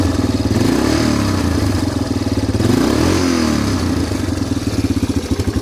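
A 20-year-old Yamaha Big Bear 350 4x4 quad runs close by, its engine chugging steadily and rising in two short revs with pitch sweeps, rough rhythmic firing throughout and no talk.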